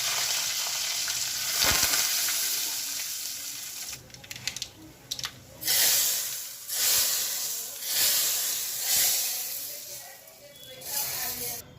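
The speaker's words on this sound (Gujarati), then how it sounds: "વઘાર નાખી દીધો છે." Spices including asafoetida crackle and sizzle in hot oil as a tempering for sambar, with a loud hissing that rises and falls in waves as the pan is stirred.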